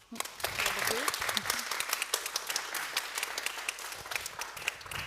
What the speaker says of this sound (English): So a big applause